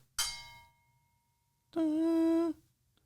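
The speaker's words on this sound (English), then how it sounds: "Okay, so that is metallic, and it's kind of like a bell." A struck metal object rings like a bell twice: a first bright strike that decays quickly, then a second, louder sustained tone with strong harmonics that holds for under a second before stopping, close by with no talk.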